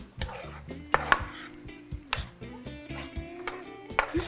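A spoon stirs queso with green onions and cooked bacon in a pot, giving scattered scraping knocks and clinks against the pot over a low steady hum, with a few sharper taps standing out.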